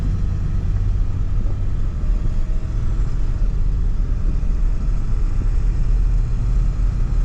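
A 2002 Ford Excursion Limited with a 7.3L Powerstroke diesel and four-wheel drive cruises along, giving a continuous deep rumble with steady road noise throughout and no voices.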